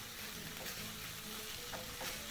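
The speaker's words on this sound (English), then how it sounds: "Continue frying your mixture," Minced meat mixture for samosa filling frying in a pan, a steady close sizzle with faint scraping from stirring, running unbroken throughout.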